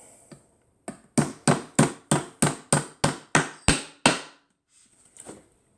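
Hammer blows fastening a part of an IKEA Kallax drawer insert: about a dozen sharp, evenly spaced strikes close by, loud and ringing, with quiet handling noise before and after.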